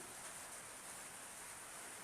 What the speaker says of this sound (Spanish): Va a seguir lloviendo, no se preocupe. Yo sé que hace mucho ruido.